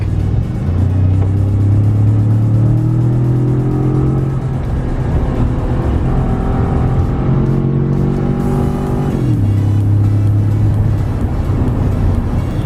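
A Ford EcoBoost pickup engine, with a dirt bike in the bed, drones loudly and steadily from inside the cab, revving up through gears in long rising pulls, then dropping and climbing again.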